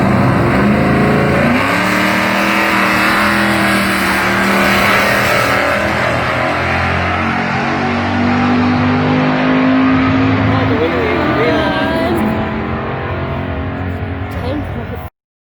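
LS-swapped Plymouth Duster drag car launching at a drag strip, a loud close engine roar rising through gear changes as it pulls away, fading toward the end, with a voice talking over it.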